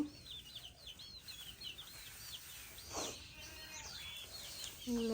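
Farm chickens cluck and chirp at a moderate distance over a quiet background, with scattered short calls and a brief louder squawk midway.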